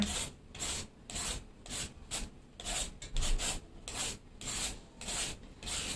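Papaya being grated on a new papaya grater, a close series of rhythmic, scratchy rasping strokes, roughly two per second, with short gaps between them.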